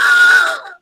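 An Adafruit Trellis plugged into a speaker plays a scream when dropped, a single loud, sustained electronic shriek lasting under a second before cutting off abruptly.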